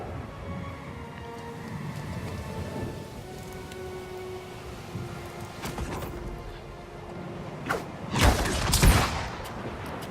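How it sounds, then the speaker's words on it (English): A stormy sea in Pillars of Eternity II lashes a ship with steady rain and rumbling wind, then two loud cracks of thunder break out near the end. "The storm picks up, lashing your ship and driving you dangerously close to a rocky shore."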